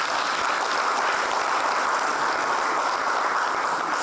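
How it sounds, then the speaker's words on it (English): Steady, dense applause from an audience at a talk on men's worth in the marketplace, loud and continuous with no gaps, filling the room with no voices over it. "Let us give a round of applause to Mr."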